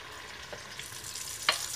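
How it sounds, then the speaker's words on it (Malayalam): Batter of ripe nendran banana and wheat flour poured into hot oil, giving a faint steady sizzle and crackle, with a brief sharper spatter near the end. "ഇതിലേക്ക് നമ്മൾ അരച്ചു വെച്ചിരിക്കുന്ന മാവ് ഇതിലേക്ക് ഒഴിച്ചു കൊടുക്കാം"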